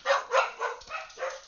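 Several dogs bark in a quick run of five or six sharp, close barks with a yip among them. Nothing else is heard.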